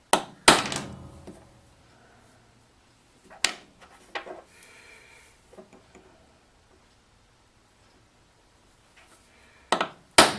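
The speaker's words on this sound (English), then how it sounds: "I'll use my center punch and put a little bit heavier" Sharp metallic taps of a center punch on metal ring out, a couple close together at the start, then isolated strikes spaced seconds apart with quiet between them.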